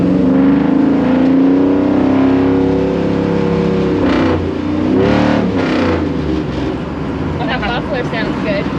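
A loud 1957 Chevy NASCAR race car engine runs steadily with rough, throaty revving that swells and dips, close by and continuous throughout.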